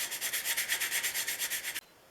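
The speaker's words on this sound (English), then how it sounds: "I'm using my sanding stick to clean up the inside of the slots" A sanding stick scrubs back and forth inside the slots of a Stanley No. 5 1/2 jack plane part, about a dozen quick, even rasping strokes close up before stopping.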